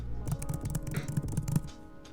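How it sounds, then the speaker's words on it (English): Keys clatter on the keyboard of an M4 iPad Pro, with about half a dozen quick, evenly spaced soft taps heard up close over roughly two seconds. "I'll get a little audio test of the keys real quick."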